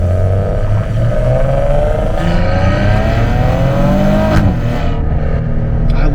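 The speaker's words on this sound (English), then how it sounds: "I love those pops on the upshifts, though." A Maserati Ghibli's Ferrari-built V6 revs loudly from inside the cabin, its pitch climbing through the gears. Short pops and cracks punctuate each upshift over a steady engine drone.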